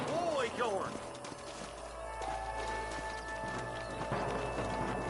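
Horse hooves clip-clop in Red Dead Redemption, a game set in the Old West, with several horses near and moving and a brief whinny early on. Game voices talk over the hoofbeats.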